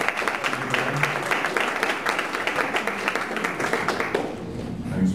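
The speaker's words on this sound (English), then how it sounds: "let's give Brad a big round of applause." A meetup audience gives speaker Brad a big round of applause, dense steady clapping sustained throughout, fairly close and even, with faint voices mixed in near the end.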